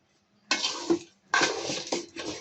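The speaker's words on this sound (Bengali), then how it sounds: "এখন আমি এর মধ্যে দিয়ে দিব সিদ্ধ করা পোলাওয়ের চাল" Boiled pulao rice is tipped into melted sugar in a pot, making two bursts of wet clattering and sizzling hiss, with spoon knocks against the pot rim, close and fairly loud.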